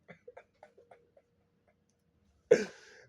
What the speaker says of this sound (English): After I cough, y'all coughing.